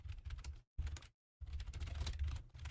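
Fingers tap out quick bursts of keystrokes on a computer keyboard, close and fairly quiet, with two short silent pauses between runs of typing.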